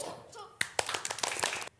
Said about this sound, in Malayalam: ടോ എന്ന് പറഞ്ഞു കഴിഞ്ഞാൽ പിന്നെ ഒരു ബിഗ് ക്ലാപ്പ് ചെയ്യണം. ഇതാണ് ലവ് ബോംബ് ക്ലാപ്പ്.